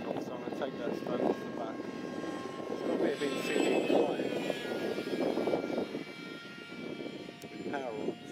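An electric pusher-powered R/C model jet, a self-built Blackburn Buccaneer S2, whirs through the air in a crosswind with a steady droning hum that rises and falls as it passes. People talk over it.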